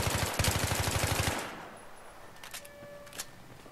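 An M4A1 assault rifle in Battlefield 3 on Xbox 360 fires a loud, steady automatic burst for over a second. A few scattered, quieter single shots follow against a faint background.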